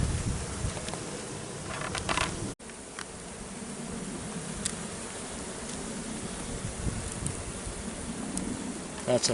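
Honey bees buzzing around an open hive during a box check, a steady close hum with brief sharper passes of individual insects and a few quiet touches of human activity.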